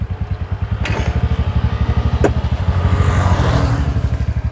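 A scooter engine runs at a steady idle just after starting, its low even pulsing loud and close, briefly rising slightly, with no voices over it.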